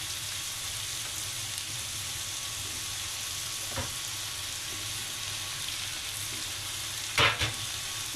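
Capsicum stir-fried in a pan gives a steady, moderately quiet sizzle with a soft frying hiss throughout, a couple of short clatters of a utensil against the pan, and no talking.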